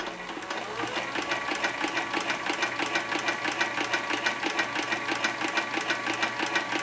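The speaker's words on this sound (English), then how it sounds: "and finish winding the bobbin." An Artisan Toro 3200 sewing machine winds a bobbin with a steady, loud mechanical hum and rapid rhythmic ticking, running continuously up close.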